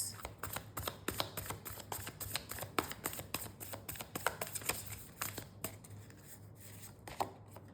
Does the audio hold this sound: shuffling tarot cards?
yes